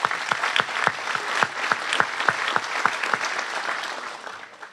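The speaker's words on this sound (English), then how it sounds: "Let's have a round of applause." A luncheon audience at a Distinguished Citizen Award event applauds in a dense, steady patter of many hands, close and full, fading slightly at the end.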